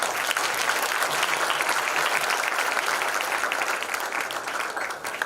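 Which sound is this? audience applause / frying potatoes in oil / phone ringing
audience applause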